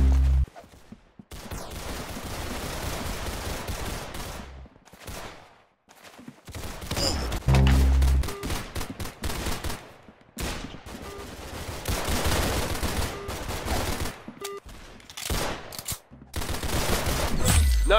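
Video game gunfire cracks in sharp, loud bursts, some rapid and some single, separated by short gaps throughout, with a brief voice now and then.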